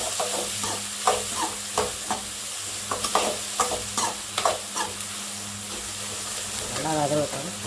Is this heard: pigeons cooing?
no